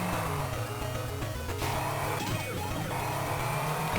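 Cars in the Game Boy Advance game E.T. The Extra Terrestrial make a continuous electronic engine whine with siren-like sweeping tones, steady and prominent throughout, with brief pitch glides near the middle.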